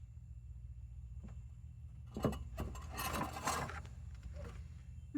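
Plastic fan shroud on a 1997 Ford E-150 Econoline 5.4 being pried loose with a trim tool: faint scrapes at first, then a cluster of louder rasping, rubbing and cracking sounds in the middle, close up.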